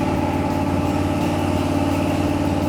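Hot-rodded 1949 Oldsmobile V8 running near the microphone, a loud, throbbing low burble with a steady rhythmic lope, constant and unbroken, no talking.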